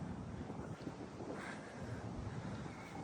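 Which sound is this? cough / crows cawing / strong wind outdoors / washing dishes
strong wind outdoors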